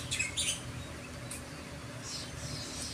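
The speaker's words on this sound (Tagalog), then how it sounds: "yung mga huni ng mga ibon." Faint bird chirps come and go over a low, steady background hum at Sembawang Hot Spring, a few short tweets scattered through the quiet.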